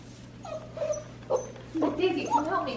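A dog whimpers and whines in short, rising bursts, close and fairly clear, with human speech mixed in around the cries.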